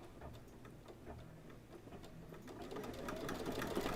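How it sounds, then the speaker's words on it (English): An embroidery machine stitches a haunted house quilt block, a rapid, even mechanical ticking and whirring that runs steadily and grows a little louder toward the end, heard close with no talking. "It'll probably do the satin stitches first"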